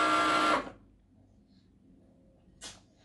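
A Cricut cutting machine cuts out a small dancer sticker, giving a loud steady mechanical whir for about half a second that then stops, followed by quiet and one brief faint motor burst near the end.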